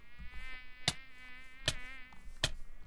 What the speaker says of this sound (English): Oh, it's a swarm of angry wasps.